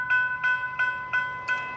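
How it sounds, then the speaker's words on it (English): A Brightline train horn sounds steadily in the distance as it blows for crossings in Stuart, Florida, its tone broken by a regular pulsing beat, with no talking. "I'm hearing Bright Line blow for crossings."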